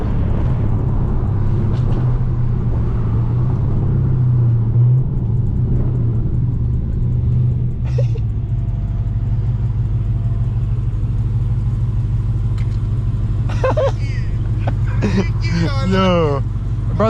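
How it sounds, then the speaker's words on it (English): A 1000hp Dodge Hellcat with a single pump rumbles low and deep from inside the car, its exhaust burbling and popping, while people talk loudly over it. "Those burbles are so fucking obnoxious."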